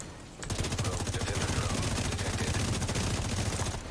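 Rapid, sustained SMG fire in the shooter game The Division 2, a dense, loud stream of evenly spaced shots starting abruptly after a brief pause and running almost to the end.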